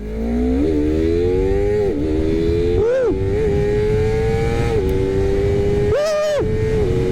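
Honda CBR250RR SP motorcycle accelerating on public streets, engine wailing up through the revs with several crisp quick-shifter upshifts, each a brief cut and pitch drop before climbing again, loud and close.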